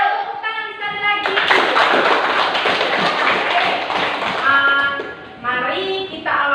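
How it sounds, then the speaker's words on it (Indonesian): A classroom of schoolchildren claps hands together in a burst of dense, loud applause lasting several seconds, framed by a speaking voice before and after. "Tepuk tangan sekali lagi."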